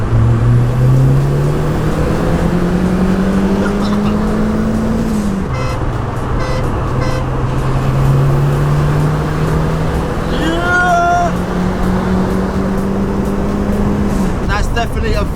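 A Renault 5 GT Turbo and another car race each other in a street run. Engine drones climb steadily in pitch through the gears, loud and sustained, with a brief higher tone near the end and talk over the top.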